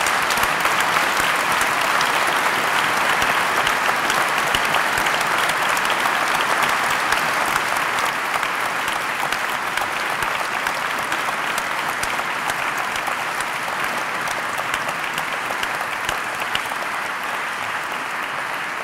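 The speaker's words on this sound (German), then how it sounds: "nämlich einen donnernden Applaus für alle, die für Sie hier gearbeitet haben" A conference audience at a closing panel discussion on migration, peace and human security gives thunderous applause to the organisers. The dense, even clapping fills the hall and keeps going for a long stretch, easing slightly toward the end.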